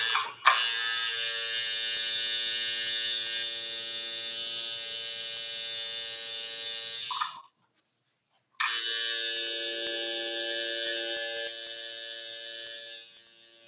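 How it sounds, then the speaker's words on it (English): A coil tattoo machine buzzes loudly and steadily up close, running about seven seconds, cutting out briefly, then starting again for several more seconds with no talk over it. "Oh, I'm getting feedback from the machine."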